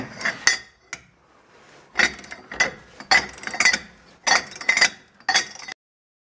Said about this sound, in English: See if I can turn that bolt.